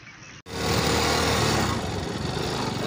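A motorcycle passes close by along a canal in Punjab, its engine bursting in suddenly after a brief hush and holding as a loud, buzzing drone to the end.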